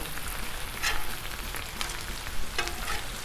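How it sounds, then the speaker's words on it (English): Bacon sizzles steadily on a Blackstone griddle, a dense, close crackle with brief louder flares as strips are turned, no voices. "Let's flip some bacon over."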